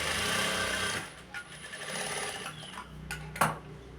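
A sewing machine stitches a blouse seam in a quiet room, a soft whirring clatter for about a second, then fading into light mechanical clicks and a sharp tap near the end.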